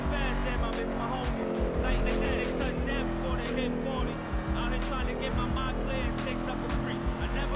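Lampadati Corsita sports car in the GTA video game driven hard, a sustained loud engine roar with shifting revs and tire noise, with a voice talking over it throughout.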